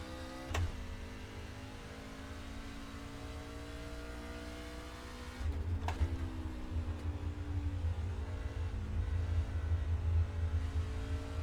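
In-car race car engine in the iRacing video game, a steady droning tone that drops in pitch at a downshift, then grows louder and rougher with heavy low rumble for the rest of the stretch.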